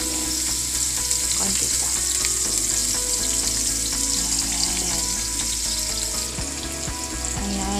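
Onion fries in oil for a home-cooked dish, a constant hissing sizzle with faint clinks of cookware, and a voice speaks briefly.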